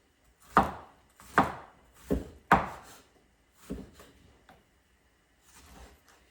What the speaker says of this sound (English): let me finish cutting off the tomato and move to the next step